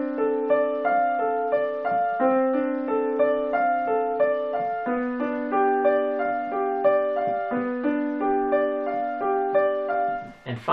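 Bach's Prelude in C Major, measures three through six, played on piano as flowing, evenly spaced broken-chord patterns that ring together at a steady tempo, close and alone.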